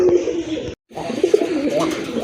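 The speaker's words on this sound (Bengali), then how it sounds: "এটা হচ্ছে আপনার বিগ সাইজের একজোড়া খাকি কবুতর" A pair of big khaki pigeons coos close by in soft, throaty calls. A brief silent gap breaks the calls partway through.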